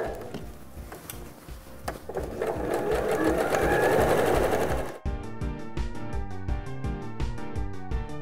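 A sewing machine stitches a SnapPap fabric bread basket in a steady, rapid mechanical rattle that runs throughout, louder and denser in the middle and shifting to a crisper rhythmic chatter toward the end.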